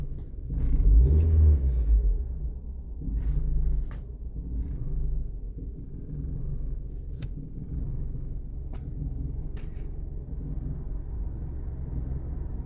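A 1998 Mazda 626 engine, under diagnosis for temperature sensor, TPS and MAF issues, runs nearby with a low steady rumble, louder in the first few seconds, then settling into an even idle with faint clicks on top.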